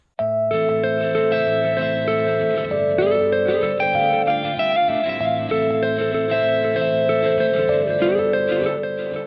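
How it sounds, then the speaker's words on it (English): A music sample with a single echo delay applied, dense layered instruments playing steadily and loudly throughout, each phrase trailed by a repeated reflection before it cuts off abruptly at the end. "Now let's listen to the sample with a single echo delay."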